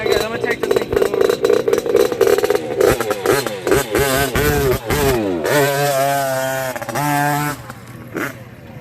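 An LD Moto Performance motorcycle on trails, engine loud and close, revving in sharp repeated bursts then climbing and settling into a steadier drone as it pulls away.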